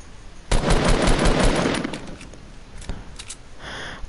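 Rapid bursts of automatic gunfire in the video game Fortnite ring out loud and close, a dense volley followed by a few scattered single shots and a faint metallic tail.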